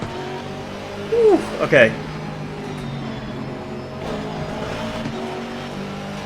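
GT race cars, including a Ferrari and a Honda NSX, lap a track in the racing game Assetto Corsa Competizione with a steady engine drone and brief yelps of revving or tire squeal, while someone comments over it.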